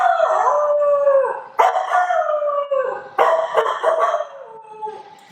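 A man imitates a local Ghanaian dog with his voice, giving three loud, drawn-out howls that break into bark-like yelps, each rising then sliding down, with no other sound around them.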